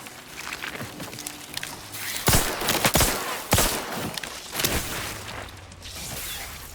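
Bursts of gunfire in The Outer Worlds 2 shooter game, several sharp loud shots and rattling volleys spaced over a few seconds amid footsteps and ambient game noise.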